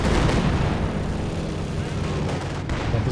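Dense, continuous barrage of rumbling rocket and artillery blasts from Katyusha launchers in the WWII strategy game Company of Heroes 2, a loud sustained roar of overlapping explosions with no clear gaps.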